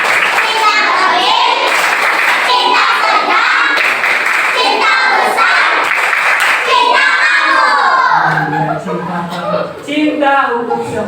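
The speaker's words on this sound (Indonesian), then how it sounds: "Tepuk cinta bersama." A class of children does the tepuk cinta rhythmic clapping game led by a teacher, with steady clapping under loud group chanting and voices throughout.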